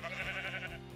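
Sheep in a Minecraft-style video game bleating, a single short, wavering bleat that is fairly faint and stands alone.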